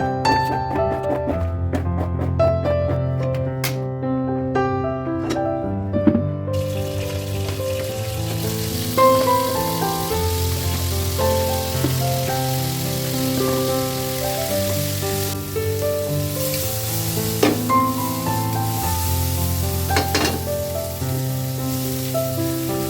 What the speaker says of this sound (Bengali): ফুলকপির সাথে 1 চামচ লবণ, 1 চামচ হলুদের গুঁড়া মাখিয়ে তেলে ভেজে নেব।